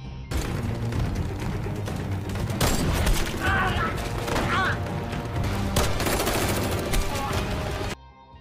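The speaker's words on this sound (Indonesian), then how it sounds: "Baku tembak terjadi di sini" Gunfire in a film shootout crackles in dense bursts, loud and continuous, layered with booms and action-scene sound, before cutting off abruptly near the end.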